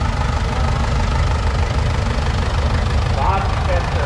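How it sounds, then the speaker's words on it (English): Minneapolis Moline propane tractor engine idling at an outdoor summer tractor show, a loud steady low rumble running the whole time beneath a speaking voice. "So this one on propane, Minneapolis Moline successful with their first propane tractor."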